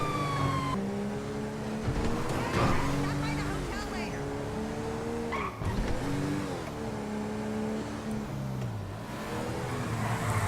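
A car engine revving hard as a fleeing vehicle speeds away in a police chase video game, a loud sustained engine roar with rising and falling pitch sweeps, mixed with game ambience.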